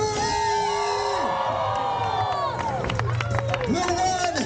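Loud crowd at the EX Games at the CNE screaming, whooping and cheering continuously, with a voice shouting through a loudspeaker over the roar.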